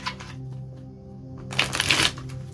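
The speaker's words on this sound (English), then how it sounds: "So I shuffle. Let me just shuffle one more time." A deck of cards is shuffled close by during a tarot reading: a quiet riffle builds to a loud, dense burst of flapping card clicks near the end, with a steady low hum underneath and no talking.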